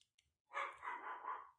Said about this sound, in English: excuse my dog shouting at the neighbours